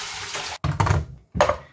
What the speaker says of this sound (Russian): Охлажденный шпинат отбрасываю на сито, отжимаю его, тем самым избавляясь от излишков воды.